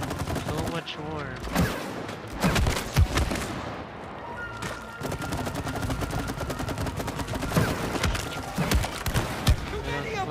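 Shots from the It Takes Two video game crackle in repeated bursts as enemies are fired on, loud and busy, with people talking over the shooting.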